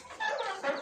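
Chickens on a village farm cluck in a short burst of overlapping calls, moderately near, with no talk.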